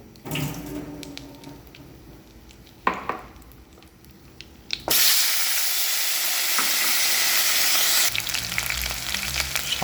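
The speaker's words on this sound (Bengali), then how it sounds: "হালকা নাড়িয়ে নেব এবার উপর থেকে কেটে রাখা আলোগুলো ঢেলে নেবো" Cut potatoes tipped into hot oil for banana flower ghanto, a few clinks and stirring sounds, then a sudden loud steady sizzle that carries on to the end, no talking.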